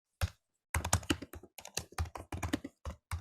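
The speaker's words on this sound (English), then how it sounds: "I like the net sound of you typing, Brent." Rapid typing on a computer keyboard, close and crisp, in short bursts of clustered keystrokes separated by brief pauses, with no talking.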